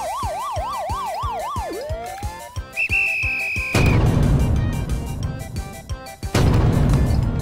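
A warbling electronic siren wails in fast rising and falling sweeps, shifts to a steady high tone, then gives way to loud rumbling noise.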